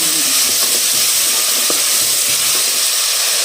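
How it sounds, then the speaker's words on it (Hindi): Tomatoes sizzling and frying in a pan with browned garlic and ginger, a steady close hiss with faint stirring clicks throughout. "अब मैं ये टमाटर इसमें ऐड कर दूँगी। इसको थोड़ा सा भून लूँगी।"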